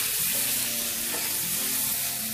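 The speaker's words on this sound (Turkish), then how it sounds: "Şimdi onu da üzerine dökeceğim ben bunu." Melted cream, butter and nutmeg are poured over potatoes in a hot pan, and a loud steady sizzle of frying fills the whole stretch, with no voices.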